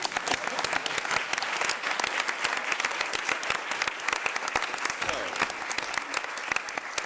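Sustained audience applause fills the room after an induction into the Mecklenburg County Order of the Hornet, many hands clapping densely and steadily for about seven seconds with no voices over it.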